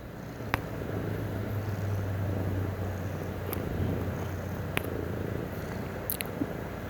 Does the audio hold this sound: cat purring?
yes